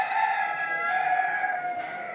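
A rooster at a poultry show in Hobart gives a sustained, bright crow, fairly close and loud, filling the whole moment without talk.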